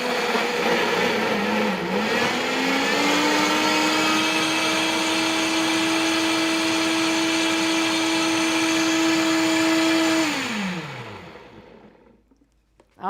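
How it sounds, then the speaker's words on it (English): Lemon curd whirring in a food processor or immersion blender: a loud, steady motor drone that dips briefly near the start, holds its pitch for several seconds, then winds down and stops, leaving near silence. "We're going to get this in place and just blend. So food processor, immersion blender, or I gave you the method for electric beaters."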